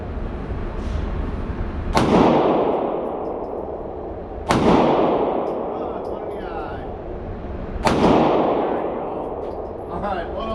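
Handgun shots at a shooting range, three loud, sharp single reports spaced a few seconds apart, each with a ringing decay, while a person talks quietly in between.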